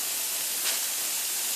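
Steam hisses steadily out of a pressure canner's vent once the weight is lifted after processing carrots, a loud, continuous close-up rush with no talking.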